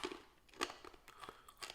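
Crunchy fried split peas, a Trinidadian snack, are chewed close up in soft, brittle crunches at an irregular rhythm, quiet and alone.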